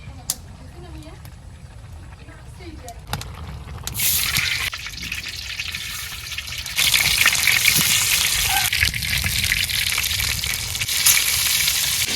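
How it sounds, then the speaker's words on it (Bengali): Malabar spinach and eggs fry in a pan in a village kitchen, with a steady sizzle that grows louder partway through, stirring noises, and a person talking over the cooking. "শাকটা ওই চুলে দিছি, এখন ডিম দিয়ে আমি চালিয়ে নিই।"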